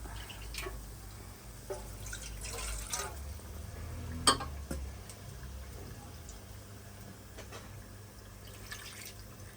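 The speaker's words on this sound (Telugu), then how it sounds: "సో ఇప్పుడు ఇందులో వాటర్ పోసి" Water poured into a pot of marinated biryani, a quiet splashing and trickling with a few sharp drips, low room hum underneath and no one speaking.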